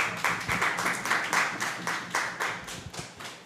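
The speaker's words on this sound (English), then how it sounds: "let's have a round of applause for the teams" Audience members at a school debate between teaching service and tourism ministry teams give a round of applause, a moderate crowd clapping in uneven bursts that swell and fade.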